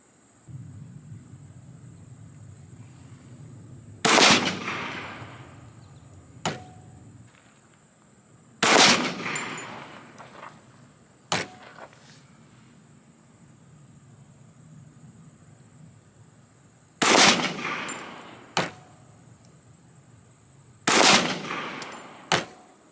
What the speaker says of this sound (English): Let's go shoot it. All right, GLOCK 21C, Remington, 230 grain.